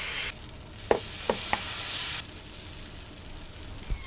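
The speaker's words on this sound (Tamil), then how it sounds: "தோசை மாவு ஊற்றிக்கலாம்." Dosa batter hitting a hot griddle, a soft steady sizzle with a few brief scraping taps, fairly quiet and close with no talk.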